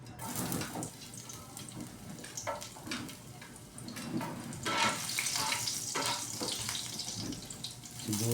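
Garlic frying in a hot pan, a steady dense sizzle and crackle that stays loud and close throughout, with no voices.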